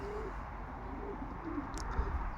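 Pigeons coo softly near a pigeon loft outdoors, low repeated calls faint against a steady background hum, with no talking.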